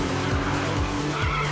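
A car in the Need For Speed Rivals video game slides in a handbrake skid. A continuous tyre screech sits over a humming engine tone, loud and sustained throughout.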